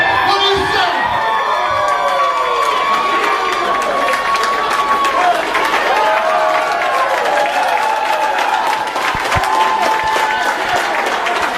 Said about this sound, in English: The crowd nice and loud.